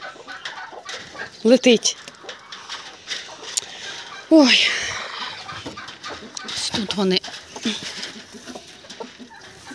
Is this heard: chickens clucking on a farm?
yes